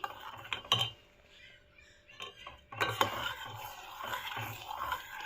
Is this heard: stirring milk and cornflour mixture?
yes